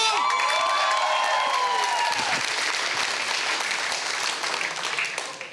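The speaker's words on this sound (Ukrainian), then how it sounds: "З вас оплески, з мене монолог." A crowd breaks into loud, sustained applause with some cheering, the clapping dense and steady before tapering slightly at the end.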